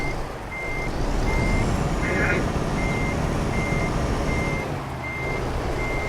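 Rhythmic electronic reversing beeps from a truck in Euro Truck Simulator 2, evenly spaced high tones over a steady diesel engine drone, with a brief hiss of air brakes in the middle.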